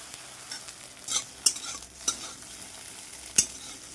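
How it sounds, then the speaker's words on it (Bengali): Egg frying lightly in hot oil in a wok, a steady soft sizzle with a few sharp crackling pops and spatula scrapes, close and alone. "হালকা করে ভেজে নেব, বেশি ভাজবো না।"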